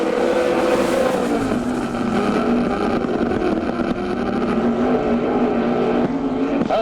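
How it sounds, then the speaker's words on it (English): A dirt sportsman modified race car roars steadily around the track while completing a lap, a continuous loud engine drone with a slowly shifting pitch and no pauses. "Here comes Doug Emery completing his second lap under the clock in car number 32."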